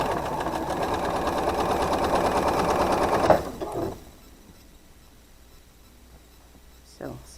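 A sewing machine stitches quilt blocks of half square triangles in a steady, close, rapid whir for about three seconds, then stops, leaving quiet with a brief handling sound near the end.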